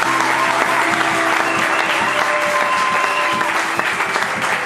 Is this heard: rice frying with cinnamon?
no